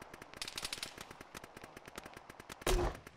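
Steady rhythmic automatic fire from a gun emplacement in the military shooter Arma near a runway, rapid evenly spaced shots at a distance, ending in a louder close blast.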